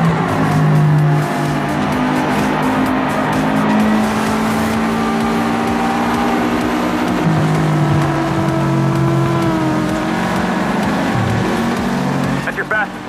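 Race car engine in GT Racing 2 video game, a steady sustained drone with shifting pitch and occasional tire squeal, under continuous talk.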